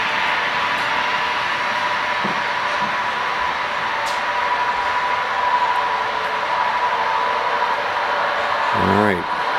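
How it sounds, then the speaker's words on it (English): A CB&Q freight train runs on a model railroad layout, giving a steady whirring hum with faint clicks and a brief rattle near the end. "There goes our, that's our CB&Q train that we just looked at."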